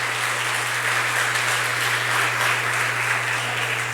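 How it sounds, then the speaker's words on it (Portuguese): A church congregation claps for Jesus during a worship service, steady dense applause sustained throughout, with a constant low electrical hum underneath. "Pode aplaudir ao Senhor Jesus"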